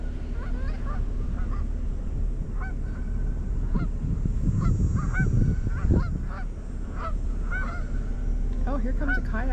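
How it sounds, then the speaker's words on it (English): Geese honk in bursts while taking off and landing on a waterway, their calls overlapping at moderate distance over a steady background with some splashing. "Pretty to see them take off and land on the water."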